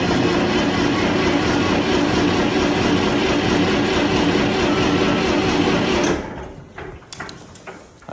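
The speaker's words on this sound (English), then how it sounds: "let's see if this old girl will fire up here" An old Massey Ferguson tractor engine in -20°C cold gives a loud, steady, close mechanical roar for about six seconds. It then cuts out, leaving a quieter rumble and a few scattered clicks.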